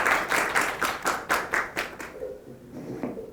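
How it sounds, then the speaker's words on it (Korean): Brief applause from a small audience at an institutional investor meeting of a life sciences company: about eight distinct, fairly even claps in a steady rhythm that fade out after two seconds, followed by quiet room sound. "박수 부탁드립니다."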